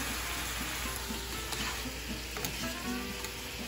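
Shrimp fry in a pan with a continuous bright sizzle and scattered pops and clinks of utensils, heard close with no speech.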